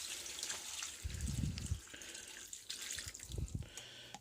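Water runs from a kitchen tap into a pot for one-pot pasta, a soft steady splashing with a couple of fuller gushes, faint and close, with no talking.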